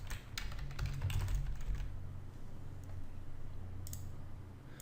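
Someone types a project name on a computer keyboard, a quick burst of close, light key clicks followed by sparser taps and a pause, over a faint steady background hum.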